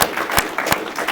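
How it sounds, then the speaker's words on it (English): An audience at a life insurance agency event gives a round of applause, a close, busy patter of many hands with a few sharp, distinct claps standing out through the short burst. "give him a big round of applause"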